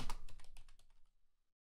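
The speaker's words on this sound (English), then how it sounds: "My R button doesn't work on my keyboard" Fingers type a quick close-up burst of clacking keystrokes on a computer keyboard with a faulty R key, slowing and fading into silence after about a second and a half.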